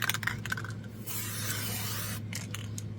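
A short hissing squirt of Aleene's tacky spray adhesive, a steady spray burst of about a second, is heard up close between softer rubbing and handling sounds over a low background hum.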